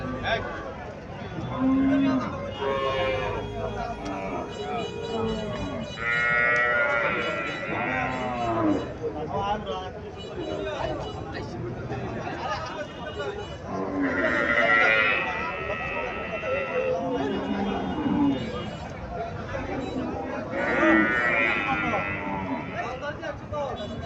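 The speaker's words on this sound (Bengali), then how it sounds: "এখানে একটা গাভি দেখা যাইতেছে" A Friesian dairy cow on a dairy farm in Cumilla gives several drawn-out calls at intervals, heard under almost constant conversation from nearby people.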